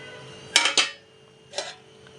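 Dishes and pots clatter during washing up in a home kitchen: two quick metallic clanks close together, a pause, then one more clatter, with a faint steady hum behind.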